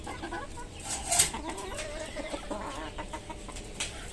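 Chickens on a small poultry farm, some of them sick, cluck and peck close by, with soft repeated clucks, scattered sharp pecking taps and one brief louder squawk partway through.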